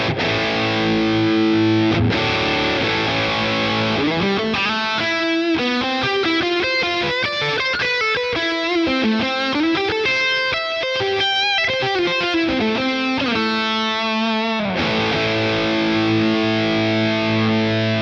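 A heavily distorted electric guitar plays sustained chords and a melodic run through a Boss Katana Gen 3 amp head with the variation button engaged, loud and continuous with no voices.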